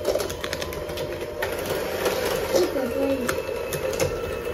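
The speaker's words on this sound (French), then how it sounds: "Avec un batteur électrique, on blende le tout." An electric hand mixer blends homemade healthy biscuit batter, giving a steady, fairly close motor whir that holds for the whole stretch with slight shifts in pitch as the beaters move, and some voices in the background.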